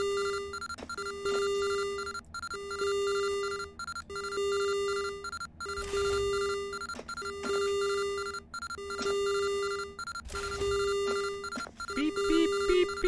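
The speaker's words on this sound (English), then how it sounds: "I would turn these sirens off, but I can't physically reach them" Repeating alarm sirens aboard a spaceship in the game Ostranauts: a looping electronic tone pulses in a steady rhythm alongside high beeping, with occasional low thumps beneath.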